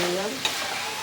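Spiced chowmein with chicken, cauliflower and egg is stirred in a hot frying pan after spice powder is added: a steady close sizzle with a single scrape of the spatula partway through, and no voices.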